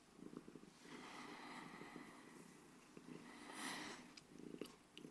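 A cat named Onions purrs close up, a soft continuous rumbling purr with faint breathy textures, very quiet and intimate.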